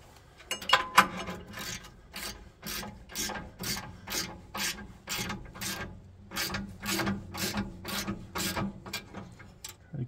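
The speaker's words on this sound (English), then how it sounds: "Half inch wrench and ratchet. We're gonna go ahead and tighten her down." A half inch wrench and ratchet tightens a bolt on a sawmill bandsaw blade wiper system, giving a close, regular series of ratcheting clicks in quick strokes that repeat steadily for about ten seconds.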